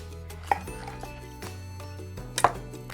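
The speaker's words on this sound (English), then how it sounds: "So just grab a knife and I'll cut that in half" A knife cuts a whole steamed cauliflower in half, with two distinct close knocks against the board about two seconds apart over a low, quiet background hum.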